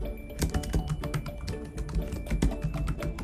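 Rapid, steady keystrokes on a computer keyboard while a comment is typed into an attendance record, close and continuous over a faint background hum.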